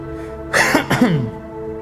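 A single short, harsh cough with a throaty rasp, close to the microphone, then quiet.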